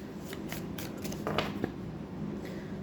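Tarot cards being shuffled and dropping, a run of quick soft flicking riffles and light slaps, close and fairly quiet, with no voice.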